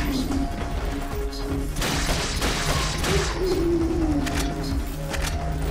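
Gunfire and impacts in the video game Resident Evil 4 Mercenaries mode, a fast burst of crashing shots over busy game sound and music, close and loud.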